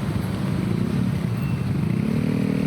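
Congested street traffic at a roundabout with motorcycles: a steady, dense rumble of idling and creeping engines close by, continuous without breaks and with no talk.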